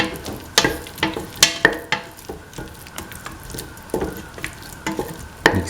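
A spoon stirs rice with winter melon, tomato and green peas in a pan, giving repeated scraping, clattering strokes over a low sizzle, close and irregular, with no talking.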